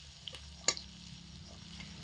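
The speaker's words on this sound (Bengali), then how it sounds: "এই সমস্ত দিয়ে মিডিয়াম আঁচে রেখে ভাজা ভাজা করে নেব যতক্ষণ না আদা আর রসুনের মধ্যে কাঁচা গন্ধটা চলে যাচ্ছে।" Ginger and garlic fry on medium heat in a pan, a soft steady sizzle with a couple of faint clicks or stirring taps, no talking.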